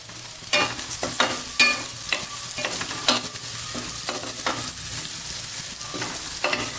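Fried onion with asafoetida and turmeric is stirred in a hot pan, a spoon scraping in repeated strokes over a soft background sizzle, close and clear with no talking.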